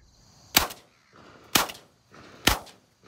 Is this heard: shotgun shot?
yes